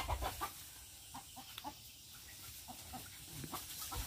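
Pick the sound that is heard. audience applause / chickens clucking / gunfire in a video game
chickens clucking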